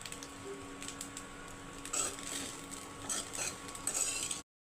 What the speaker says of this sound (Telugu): కొంచెం కొత్తిమీర వేసి కలిపేసుకుంటాను